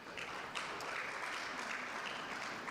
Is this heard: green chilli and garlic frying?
no